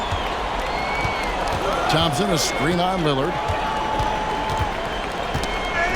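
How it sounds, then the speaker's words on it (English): Crowd applause in a basketball arena in the NBA 2K24 video game forms a steady, dense wash of clapping and crowd noise throughout, with a commentator talking over it. "And listen to the crowd here."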